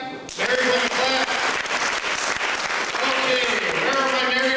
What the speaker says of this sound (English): Married women, clap.